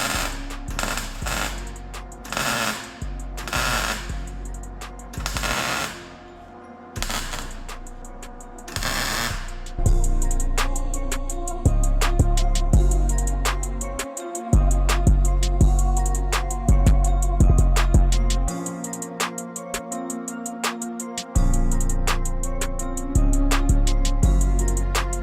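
Exhaust pipe on a 2007 Chevrolet Avalanche Z71 being welded during a muffler delete: a dense, buzzing crackle comes in bursts, with stops and restarts and rapid ticking inside each run, loud and close.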